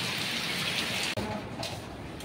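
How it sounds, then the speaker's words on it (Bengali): Steady rain falls without a break, a soft, even hiss that is fairly quiet and continuous throughout. "বৃষ্টি হচ্ছে"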